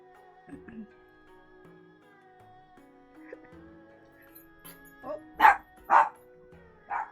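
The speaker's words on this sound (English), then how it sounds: "That's why my doggy's barking." A dog barks several times in quick succession near the end, sharp and fairly close, after quieter household sounds and faint tones.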